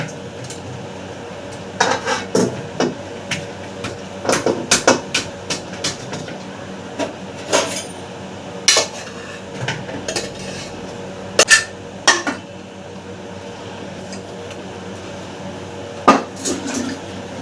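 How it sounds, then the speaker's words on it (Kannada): Metal pots, a cooking vessel and utensils being set down and handled in a home kitchen while making lemon rice, giving scattered sharp clanks and clatters at close range with quiet gaps between, no talking. "ಇವಾಗ ನಾನು ಒಂದು ಪಾತ್ರೆ ಹಾಕೋತೀನಿ."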